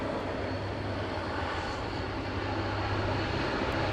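An airliner landing on runway 16 right at Sydney Airport gives a steady broadband engine roar with a low rumble, constant in loudness throughout, with no voices.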